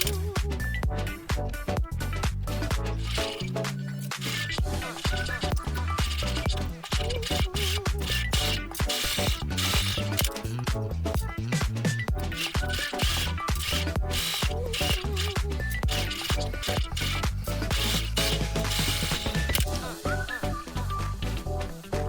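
Sewing machine stitching the side seams of a small patchwork zipper pouch made from fabric scraps, running in a steady, dense mechanical patter with brief pauses, fairly quiet and close.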